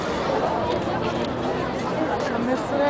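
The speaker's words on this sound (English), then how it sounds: "A crowd of people over there. Yeah, a lot of people under it." A large crowd of people chatters at night in Paris, forming a steady, dense wash of overlapping voices with no single speaker standing out, continuous and fairly loud throughout.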